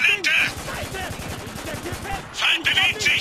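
Rapid machine gun bursts in the war shooter Spec Ops: The Line, loud and close, with a dense rattling stream of shots through the middle and heavier blasts at the start and end, under in-game voices.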